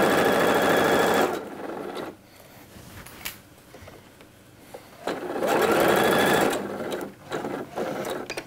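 A sewing machine stitching the shoulder seams of a coat, two close bursts of fast whirring stitching separated by quieter handling noises and small clicks.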